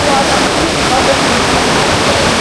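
Loud, continuous rushing of flowing water, a constant close wash of noise with no break, heard outdoors beside a swimming pool on a long ride through a treed area.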